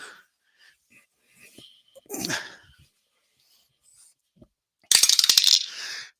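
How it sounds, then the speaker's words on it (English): Dice dropped while playing an APBA tabletop baseball game: a quick burst of rattling, clattering hits near the end, loud and close, after a few faint knocks and a brief soft rustle. "And of course, we dropped the dice."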